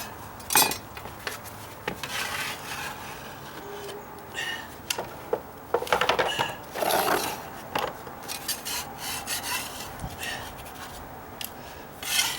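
Scraper rasping old material off wooden deck stair boards during dry rot repairs, in irregular bursts of harsh scraping and rubbing strokes with short pauses and occasional knocks, close and moderately loud with no talk.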